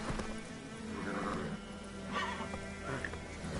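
Roach, a horse in The Witcher 3 video game, gallops with steady hoofbeats and lets out whinnying neighs, close and clear over a continuous game soundscape.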